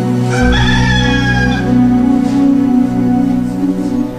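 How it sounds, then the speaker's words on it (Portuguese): A rooster crows loudly and close, one long drawn-out call followed by lower clucking and throaty sounds from the fowl. "quando pela terceira vez Pedro nega a Jesus, o galo canta."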